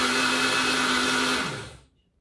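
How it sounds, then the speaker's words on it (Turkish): A hand blender whirs loudly and steadily for over a second, then winds down and stops, leaving silence. "Bu Yui'nin bir ezicisi, blender'ı."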